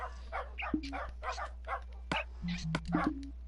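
Dogs in the video game Minecraft bark in a rapid series of short yips and bow-wows, mixed with a person talking and a steady low hum underneath.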